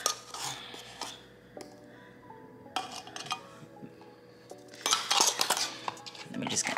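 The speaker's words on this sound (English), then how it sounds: "Let me just kind of mix that in there." A utensil scrapes and clinks against a container while baking powder is mixed into about a cup of paint for a faux ceramic vase, with intermittent stirring and tapping bursts, louder toward the end.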